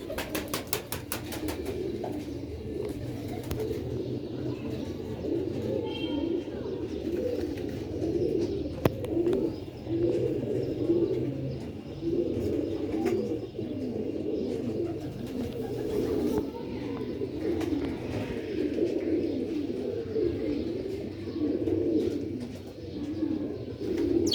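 Rooftop pigeons in Sialkot cooing steadily at close range over a dense, continuous flock murmur, with occasional wing flaps and faint background noise throughout.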